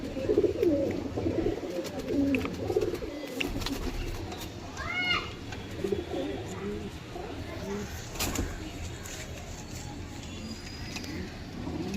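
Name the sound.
pigeons cooing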